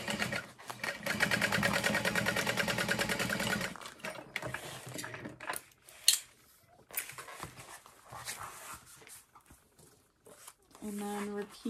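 A sewing machine stitches a backpack seam in a dense, steady whir for nearly four seconds. Clicks, fabric handling and a sharp knock follow, then a shorter machine burst near the end.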